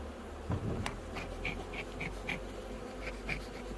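Faint buzzing of honey bees at a hive drifts in and out over a low background rumble, with a few soft knocks and no voices.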